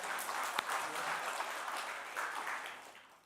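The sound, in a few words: church congregation applauding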